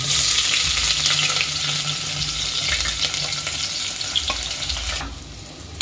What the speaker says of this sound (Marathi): आता ह्याच तेलामध्ये आपण हा लांब लांब चिरलेला कांदा तळून घेऊ